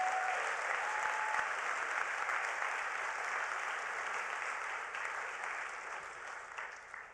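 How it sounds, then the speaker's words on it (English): Sustained applause from a large audience at a prize finals and awards ceremony at the United Nations, steady and dense clapping that slowly tapers toward the end. "let's give them a round of applause for the amazing judges"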